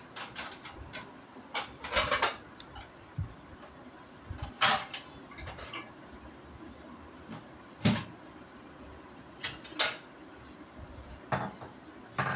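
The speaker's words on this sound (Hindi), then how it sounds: "सूख गए बर्तन, तो इनको सेट करना कैबिनेट्स में, ये कर रही थी मैं।" Dried dishes being put away into kitchen cabinets: scattered clinks of crockery and glass, cabinet doors thudding open and shut at irregular intervals, close by in a quiet room.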